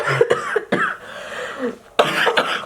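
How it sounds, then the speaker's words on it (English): A few harsh coughs close up, broken into short bursts with a raspy throat sound between them. "Not me coughing."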